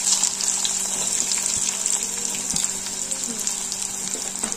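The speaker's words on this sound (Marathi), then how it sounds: "जिरा, मोहरी आणि टाकत आहे मी आता कांदा." Onion goes into a pan of frying cumin and mustard seeds for a home-cooked vegetable dish, making a loud, steady, hissing sizzle that lasts throughout, with faint scraping underneath.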